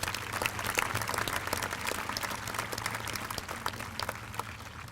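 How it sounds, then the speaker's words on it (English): Audience applause at a high school commencement ceremony, dense and steady clapping from a crowd that holds at a moderate level throughout. "Please give them all a nice round of applause."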